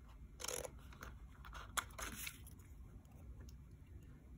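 Scissors snipping through a piece of purple junk mail paper, a few quiet close cuts and crinkles with pauses between.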